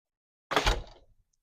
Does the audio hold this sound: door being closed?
yes